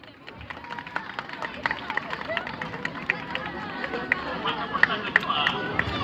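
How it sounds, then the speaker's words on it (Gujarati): A crowd of listeners at a Gujarati folk storytelling program by Bhathi Rabari claps hands steadily throughout, the scattered sharp claps rising in density toward the end beneath general crowd murmur. "મિત્રો તાળીઓ વગાડો બાપ"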